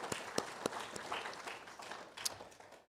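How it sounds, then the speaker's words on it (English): Congregation applauding the choir at a Sunday church service, a short burst of dense clapping with a few sharp individual claps standing out, fading quickly to quiet. "maybe we can give one more round of applause"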